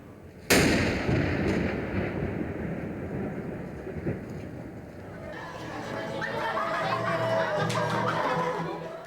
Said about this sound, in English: This cannon tells people it's new. Cover your ears.